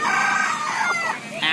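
A hen clucks and squawks close by in repeated, agitated calls, with rising harmonic cries near the end.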